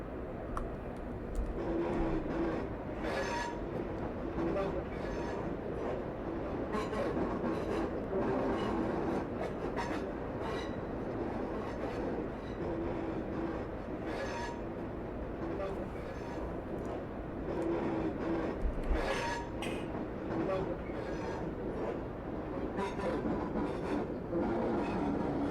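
A Class 142 train in Train Sim 2021 runs along the line from Weston-super-Mare to Bristol, giving a steady rumble with rhythmic clicking of wheels on rail joints throughout.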